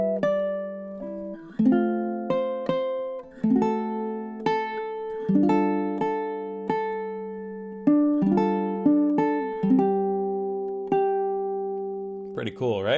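A plucked ukulele plays a blues tune in chord melody style, steady strummed chords and single notes ringing out in a clear, close, unaccompanied phrase.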